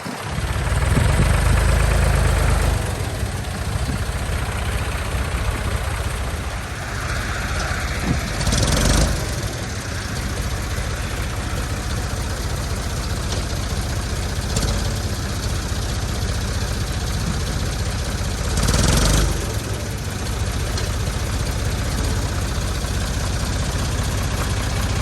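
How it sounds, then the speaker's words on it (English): A 40-plus-year-old Ford tractor engine idles with a steady low rumble on a snowy, cold day, holding an even throb for the whole stretch, with a couple of brief louder bursts and no talk. "we're gonna use the tractor to lift the back of the trailer up"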